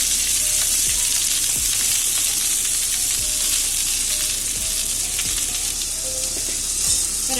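Sliced onions sizzle steadily in hot coconut oil for a Malabar fish biryani, a loud continuous frying hiss close to the pan with occasional soft stirring knocks.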